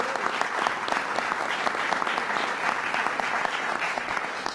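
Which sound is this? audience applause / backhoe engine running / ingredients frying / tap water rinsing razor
audience applause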